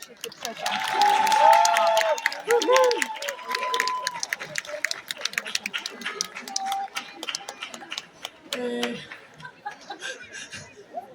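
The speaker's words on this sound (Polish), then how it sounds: "tutaj powinny już być oklaski" Scattered applause and chuckling from an outdoor audience at a ukulele band's performance in Park Saski, Lublin, mixed with voices and brief crowd noise across the clip.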